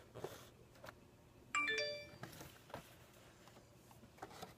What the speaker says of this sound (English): I've been hearing my phone going off.